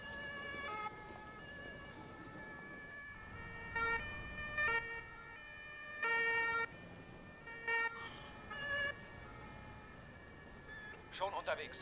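Emergency vehicle siren and horn blasts in the Emergency 4 video game, repeated short tonal bursts over a faint steady background, with someone talking at times.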